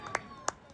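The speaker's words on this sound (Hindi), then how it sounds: "मुख्य अतिथि माननीय बिशन सिंह बोनाल जी के लिए दोनों हाथ ऊपर करके स्वागत स्वरूप जोरदार तालियों से आप स्वागत करेंगे" Hands clap in welcome at an evening program of the Jauljibi fair, November 2025, giving three sharp, separate claps spaced unevenly over a faint background.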